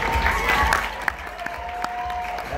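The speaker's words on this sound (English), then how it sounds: "a big round of applause" An audience at a Miss Winston-Salem pageant applauds steadily, a continuous wash of clapping with some crowd noise, moderately loud throughout.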